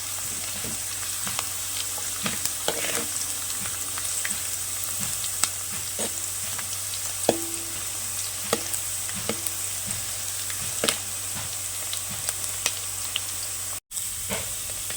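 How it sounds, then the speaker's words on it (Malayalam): Onions sautéing with salt in a pan for a Kerala-style chicken biryani, a steady close sizzle and hiss punctuated by scattered pops and occasional stirring clicks, with no talking. "ഉള്ളി വാടാൻ വെച്ചിട്ടുണ്ട്."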